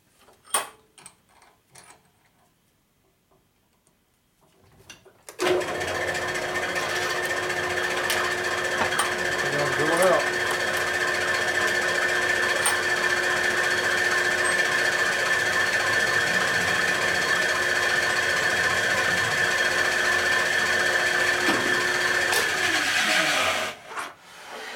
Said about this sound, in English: You're drilling out the rivet head there.